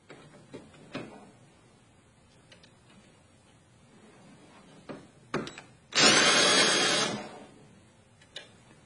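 A Lee Power Quick Trim cutter spun by a drill trims a 300 Blackout brass case: one loud, steady whirring grind lasting about a second, set between small clicks and handling knocks.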